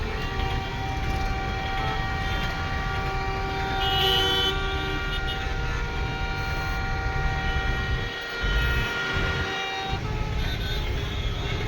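Vehicle horns toot repeatedly and overlap in a long traffic queue at a congested road junction in Baramati, with steady engine and road noise underneath throughout.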